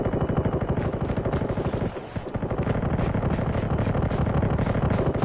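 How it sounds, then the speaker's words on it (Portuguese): Sustained automatic gunfire in Call of Duty Mobile, a dense rapid rattle that briefly drops out before resuming with steady loud bursts. "Olha, tá rolando tiroteio ali, ó."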